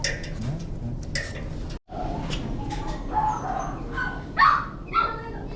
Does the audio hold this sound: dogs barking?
yes